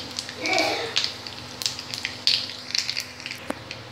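Panch phoron and dry red chillies dropped into hot oil, giving a brief sizzle and scattered crackling pops that fade into quieter spitting, close by.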